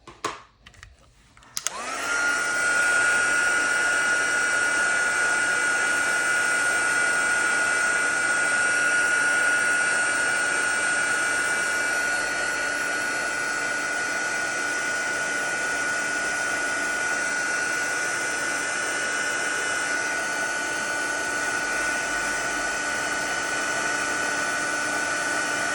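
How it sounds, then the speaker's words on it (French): A heat embossing tool blows hot air over gold embossing powder on a Christmas card, starting after a brief click and running as a loud, steady, close whirring hiss with a high whine, unbroken for the rest of the clip. "Et on va venir chauffer avec le fer"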